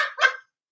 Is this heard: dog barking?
yes